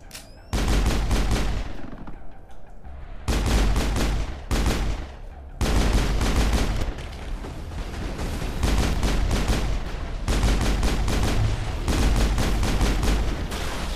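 Rapid bursts of automatic gunfire from the shooter game Mass Effect, loud and close, coming in long sustained volleys separated by brief pauses.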